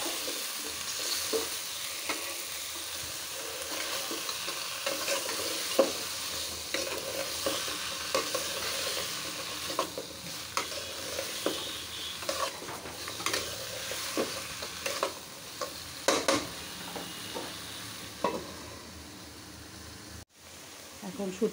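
Mixed vegetables being stirred and fried in a pan for a dried-fish (shutki) curry, with steady sizzling broken by repeated scraping stir strokes. The sound runs through the whole stretch at a close, moderate level.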